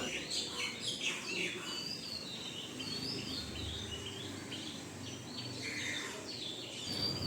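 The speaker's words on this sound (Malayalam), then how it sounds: "പുറത്ത് പോകുമ്പോൾ നല്ല കിളിയുടെ സൗണ്ടൊക്കെ നിങ്ങൾക്ക് കേൾക്കാൻ പറ്റുമെന്ന് എനിക്ക് തോന്നുന്നു" Several birds sing and chirp outdoors in the morning at a distance, their high calls scattered over a soft, steady ambient hiss.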